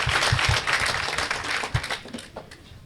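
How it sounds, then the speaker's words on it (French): A crowd applauds at an official certificate presentation ceremony, dense clapping at first that thins into scattered individual claps and fades out toward the end. "Je vous prie d'applaudir très fort pour eux."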